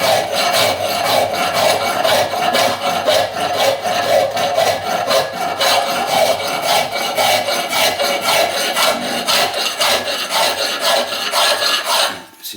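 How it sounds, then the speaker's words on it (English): Hand file rasping on steel while shaping a lug for a locomotive boiler band, a steady, loud run of close back-and-forth strokes with no talk, ending abruptly. "So I prefer just to use my old file."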